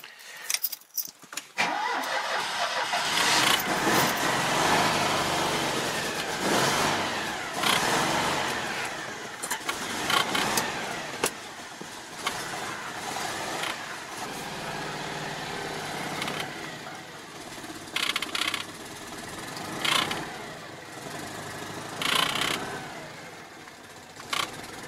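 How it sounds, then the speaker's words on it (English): A Citroën 2CV engine cranks and catches with the choke out, then runs on unevenly at a rough idle with occasional revs and surges, close and fairly loud throughout. "I need to do is to sort this 2CV out, because let's start it up."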